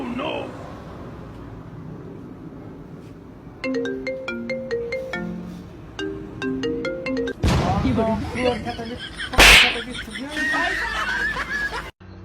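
Phone ringtone of an outgoing call: a repeating electronic melody of short beeping tones plays for several seconds while people chuckle and laugh nearby, followed by louder laughter and talk.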